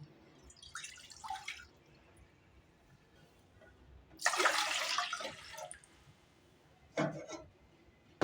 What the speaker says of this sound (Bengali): এখানে আমি এই ধরনের একটি মগে দেড় মগ পানি নেব